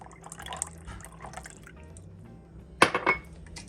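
Butter goes into a sweet potato pudding mixture with brown sugar already in the bowl, landing in a quick cluster of soft, wet plops near the end against a quiet background.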